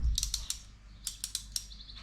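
A ratcheting crimp tool clicks sharply and close as an eyelet terminal is crimped onto a starter motor jumper wire, with several quick clicks in two short bursts and no talking.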